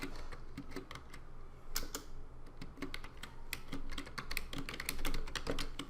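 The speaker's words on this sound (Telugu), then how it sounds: "ఇప్పుడు నా ఓన్ టెక్స్ట్ టైప్ చేసుకుంటా." Rapid keystrokes on a computer keyboard while text is entered in Photoshop 2020, a steady run of close, crisp clicks with irregular rhythm and a faint room hum beneath.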